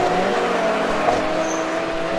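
GT race cars climbing the hill at Oulton Park during a 2013 GT Cup race, a continuous loud engine roar with no distinct gaps.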